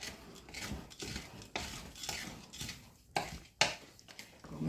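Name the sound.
stirring cookie mix with semi-sweet chocolate chips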